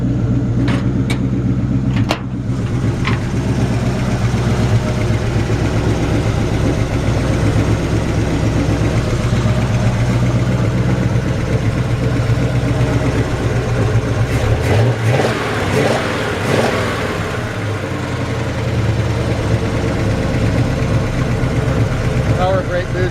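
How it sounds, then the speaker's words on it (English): A 1953 Chevy 3100 five-window pickup idling with straight-pipe exhaust; a loud, steady, close engine rumble with a brief rev partway through, while someone talks over it. "Really nice sounding exhaust. I think it's actually straight pipes."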